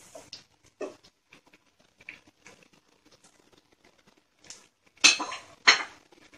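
A spoon clinks and scrapes against a pan while mozzarella cheese and other ingredients are stirred together, scattered light taps at first and then two louder clattering scrapes near the end, close and with no talking.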